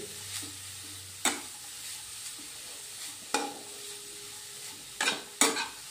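Grated carrots sautéed in ghee over medium heat for gajar halwa: a soft background sizzle broken by repeated, distinct scraping strokes of a spoon stirring through the pan.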